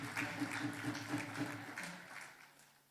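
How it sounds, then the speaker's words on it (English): An audience at a bust unveiling ceremony claps steadily, dense applause that holds at moderate level over a low hum, then thins and fades toward the end. "A round of applause for him as he joins her on the high table,"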